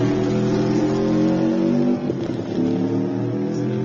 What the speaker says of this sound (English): Here's the Subaru now.